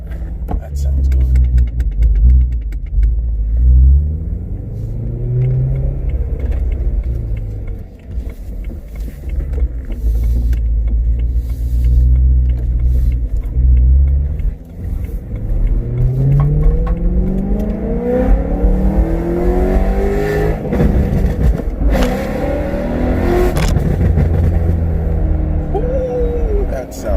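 BMW E92 M3 with an ACM muffler mod, exhaust droning through repeated revs and accelerations from a moving car, loud and close with rising and falling engine pitch; people talk over it at times.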